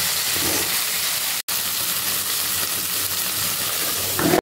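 Beaten sour curd goes into a hot pan with pointed gourd, setting off a loud, steady sizzling hiss that runs almost unbroken throughout.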